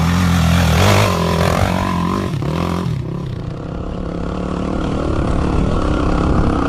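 Suzuki DRZ 400 dirt bike engine downshifting and being throttled hard, a loud close revving roar whose pitch climbs, dips, then settles into a sustained rough drone, with wind noise and no talking.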